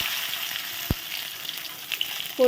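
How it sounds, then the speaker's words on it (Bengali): Whole cardamom, cinnamon and cloves temper in hot oil for aloo dum, giving a steady, close sizzle and crackle. A single sharp knock sounds early, and a brief scrape comes near the end. "তেল গরম হয়ে গেছে এলাচ দারচিনি লবঙ্গ আলুর দমের জন্য ফোড়ন দিয়ে দিলাম"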